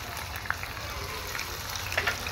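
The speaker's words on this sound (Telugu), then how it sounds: "ఆనియన్ పేస్ట్ పచ్చివాసన వేయలేదాక కొంచెం లైట్ బ్రౌన్ వచ్చే వరకు ఇలా ఫ్రై చేసుకోవాలి" Onion paste and cumin seeds frying in hot oil for a mushroom curry, a steady close sizzle with a few small pops and crackles and no talking.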